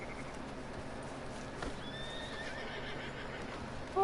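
A pair of horses on a farm, one whinnying with a thin rising call while quiet hoof clops tap in the background, fairly distant and soft against faint outdoor ambience.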